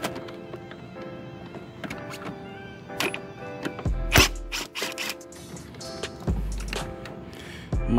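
A ratchet drives out Torx 30 bolts on a 2015 Chrysler 200 during thermostat removal, with repeated clicking pawl sounds, metallic scrapes and a few louder knocks close by.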